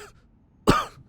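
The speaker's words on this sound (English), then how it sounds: "you hear coughing sounds behind a dumpster to your right" A single harsh cough, brief and fairly close, bursting out of near silence and trailing off quickly.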